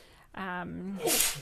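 A single sneeze bursts out, a voiced intake followed by a sharp hissing expulsion, close and clear.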